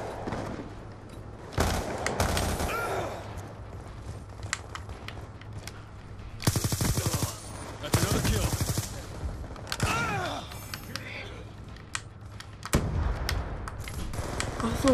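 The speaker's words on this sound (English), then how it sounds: "Oh, it's machine guns, what? Seriously?" Rapid machine gun bursts and gunfire from Call of Duty Black Ops 2 gameplay, loud repeated volleys around the middle and end of the clip over a steady background, with some game speech mixed in.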